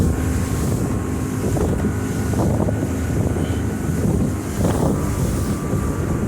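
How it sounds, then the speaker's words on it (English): Wind buffeting the microphone aboard a 2005 Skeeter SL 180 fish-and-ski boat with a Yamaha 150 V Max outboard running on a lake; steady low rumble and gusty roar throughout, loud and close, with no talking. "And it is a little windy."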